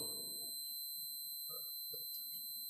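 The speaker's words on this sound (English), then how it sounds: "you will hear the buzzer sound, the beep sound" A digital multimeter in continuity mode gives a steady, high electronic buzzer beep that sounds without a break from start to finish, clear and close, with a faint low murmur at the very beginning.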